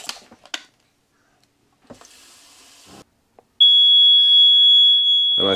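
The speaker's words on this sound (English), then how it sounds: "Find leaks fast. Water alarm." A boat's water leak alarm sounds as a loud, continuous high electronic tone that starts suddenly and holds steady, preceded by scattered faint clicks and rustling.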